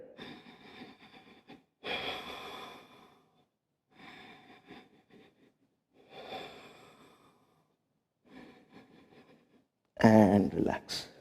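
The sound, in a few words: deep breathing during yoga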